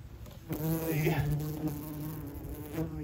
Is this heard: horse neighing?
no